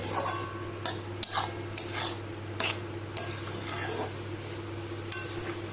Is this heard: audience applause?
no